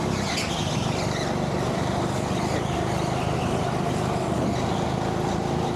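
Loud, steady go-kart engine roar with a continuous high-pitched whine, running flat out for the whole stretch during a race at Teamsport Cambuslang.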